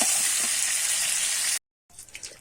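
Potatoes and cauliflower frying in hot oil in a wok, a steady close sizzle and hiss for about a second and a half, cutting off abruptly, then returning as a softer, uneven crackle.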